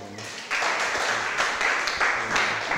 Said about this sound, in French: Monsieur Michel Tap, applaudissez pour lui s'il vous plaît.